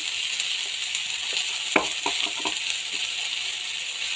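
Dried fish with tomatoes and salt sizzles steadily in a pan, a few soft scrapes of a spatula breaking through the constant frying hiss.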